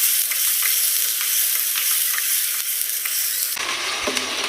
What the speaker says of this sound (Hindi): लहसुन अदरक की जैसे स्मेल खत्म होगी तब तक इसको हम फ्राई करेंगे चिकन को।